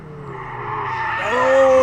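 A Ferrari Challenge race car spins at Circuit of the Americas during a Coppa Shell race, its engine note rising and shifting in pitch as it slides, growing louder and nearer over a couple of seconds.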